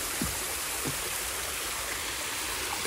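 A stream spills over a small waterfall and runs beneath a bridge on a hike at Locust Grove, making a steady, close rushing wash that stays even throughout with no voices.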